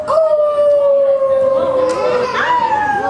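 A storyteller's voice imitating a wolf howling with a long drawn-out tone that dips and then rises again, loud and close throughout.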